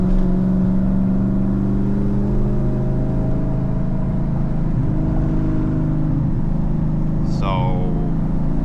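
A turbocharged Dodge Challenger SRT8 accelerates hard, its engine and turbo whine rising loud and steady from inside the cabin, with a high sweeping whistle near the end.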